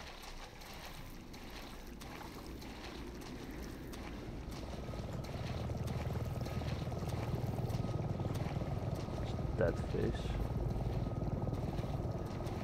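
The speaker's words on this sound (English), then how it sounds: "Is that a helicopter? It's a helicopter." Helicopter in the video game Resident Evil 7: a steady rotor drone that swells louder midway and holds near, with a brief spoken phrase over it.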